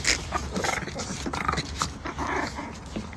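A pet dog growls and whimpers in short rough bursts close by, with a few grumbling yips over roughly three seconds.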